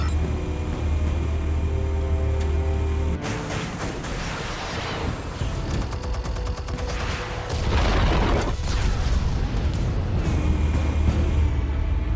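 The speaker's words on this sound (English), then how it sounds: "Explosives armed. Fire when ready." Explosives detonate in a film scene, a long, loud stretch of rumbling blasts and crackling debris with mechanical clanking, the intensity surging again near the end.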